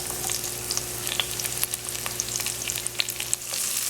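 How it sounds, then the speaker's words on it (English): Onions, garlic and hot pepper frying in coconut oil for a Trinidadian fry aloo breakfast, a steady close sizzle with scattered pops and crackles. "I've got some coconut oil. That's what I'm going to be using. I'm going to be adding my onions, my garlic, my hot pepper."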